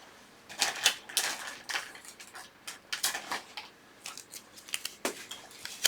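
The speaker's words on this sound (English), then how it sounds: "I'm going to go ahead and put a piece of tape on the back of this to hold it still." Tape is pulled and torn, then pressed onto the back of a small jump-scare skeleton prop, giving a close series of crackling rips and sharp taps in irregular bursts.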